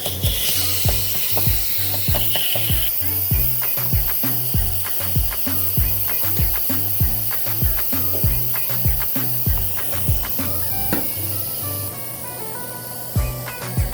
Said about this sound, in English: turn your valve from the sealing position to the venting position